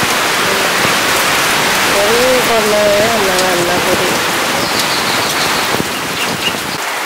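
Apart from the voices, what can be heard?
heavy rain falling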